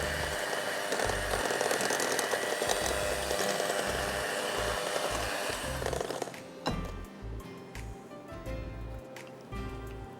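An electric mixer whirs steadily through unsalted butter and sugar for a lemon cake, a loud buzzing drone that cuts off partway, leaving quieter kitchen clatter and knocks.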